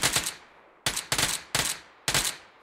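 Short bursts of rapid gunfire in PUBG, five sharp volleys in quick succession with brief gaps, loud and close, no voices.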